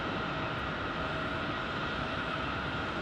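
Airbus A321neo airliner arriving at Phoenix Sky Harbor, a steady broadband engine roar that stays constant and fairly loud throughout, with no voices.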